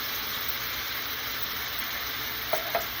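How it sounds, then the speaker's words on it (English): A hot pan sizzles steadily as canned tomatoes are poured in for crawfish étouffée, with a broad hiss throughout and two brief clinks or splashes near the end. "I'm going to slowly add in this can of tomatoes that will stop it from cooking"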